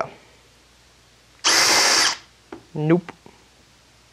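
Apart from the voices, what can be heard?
power drill boring through wood for cockpit floor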